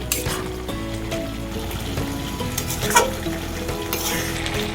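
Fried prawns are stirred into a banana-flower curry as it fries in a pan, giving a steady sizzle with scraping spoon strokes and a sharper clink near the end.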